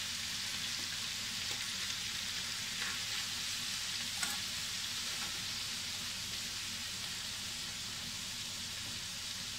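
Pieces of venison searing in a frying pan, a continuous soft, even sizzle at low volume with faint scattered spatters and no voices.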